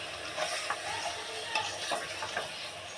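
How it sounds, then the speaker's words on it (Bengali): Meat being lightly fried in oil in a pot for Old Dhaka Haji-style biryani, sizzling steadily up close with a few scraping stirs and clicks. "মাংসটা দেওয়া হয়ে গেলে একটু নেড়ে চেড়ে তেলের সাথে মাংসটাকে একটু ভেজে নেব হালকা করে"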